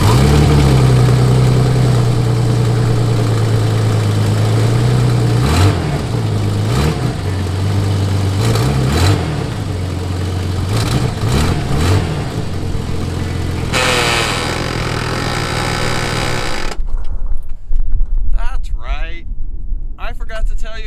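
A Jeep Comanche truck with a blown transmission idles and rolls into a shop, its steady mid-pitched engine hum running loud and close for most of the stretch before cutting off near the end, leaving quieter shop noise.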